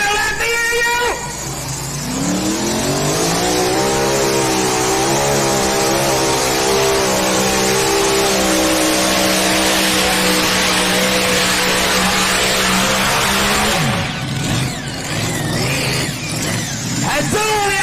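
A loud four-wheel-drive pulling truck engine revs and roars continuously at a truck and tractor pull, pitch climbing as it strains, with a crowd and announcer beneath, then cutting off abruptly.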